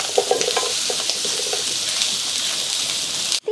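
Potato chunks drop into a pan of frying chicken pieces, setting off a loud, close sizzle with stirring scrapes, ending in a brief pause and a fresh burst of crackle.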